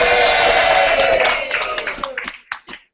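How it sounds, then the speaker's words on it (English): A live audience on a Google+ Hangout on Air claps together, a dense burst of applause that holds loudly for a moment and then thins into a few scattered last claps before stopping. "Give a big clap."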